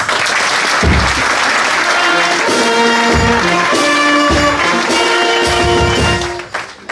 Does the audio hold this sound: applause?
yes